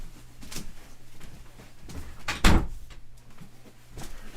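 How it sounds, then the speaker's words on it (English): A door swings shut with a single firm thump after some faint rustling and handling noises in an otherwise quiet room. "and I'll close the door and that'll help too."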